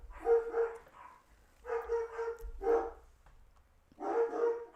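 Dogs bark in repeated bursts of several yelps each, close and fairly loud, separated by short pauses.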